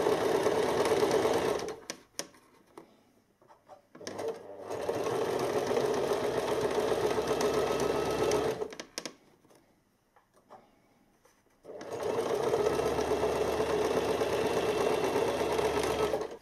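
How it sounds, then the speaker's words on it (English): A sewing machine runs a stitch along a French seam in steady mechanical whirring bursts, stopping twice for a few quiet seconds before starting again, close and clear. "run your new seam under your machine again on another running stitch"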